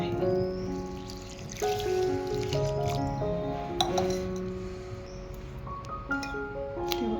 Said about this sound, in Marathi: आणि ह्याच्यात पाणी ओतून ठेवायचं आहे